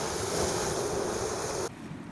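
Ocean waves wash against the shore at a seaside campsite in Norway, a loud, steady roar of surf mixed with wind noise that cuts off abruptly near the end.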